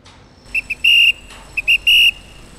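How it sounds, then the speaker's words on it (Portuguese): Signalman's whistle used to direct cargo crane moves, sharp shrill blasts in a pattern of two short chirps followed by one long blast, repeated twice, loud and close. "Você trabalha com apito, mais o quê? Apito, rádio."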